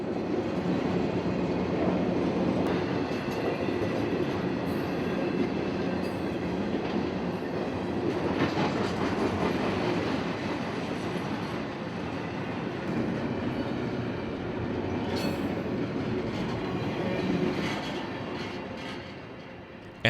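A CSX intermodal freight train rumbles steadily past up close, a continuous heavy roar of wheels and cars with faint rhythmic clacking and occasional metallic squeals, no voices.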